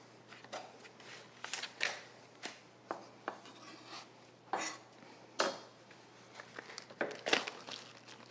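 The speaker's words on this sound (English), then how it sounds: "I'm just using that to cut through the biscuits" The back of a knife pressing down through laminated biscuit dough, a series of soft, irregular thuds and scrapes on a board, close and quiet with faint rustling between strokes and no talking.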